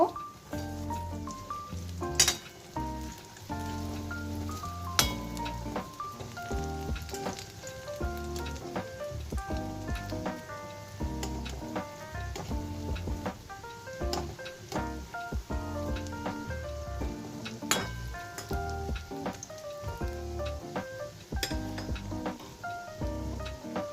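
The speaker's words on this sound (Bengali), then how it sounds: "গ্যাসটা কমিয়ে কমিয়ে রেখে ভাজতে হবে বড়াটা" Lentil fritters made from four kinds of dal frying in oil over a low gas flame, giving a steady soft crackle and sizzle with scattered pops that runs on throughout, with no talking.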